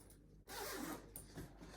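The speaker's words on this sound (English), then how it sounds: "there's a zipper here over this bar or around this bar." A zipper is pulled open along a stroller's fabric cover in one long, steady rasp after a brief pause, close and quiet, with a few shorter tugs at the end.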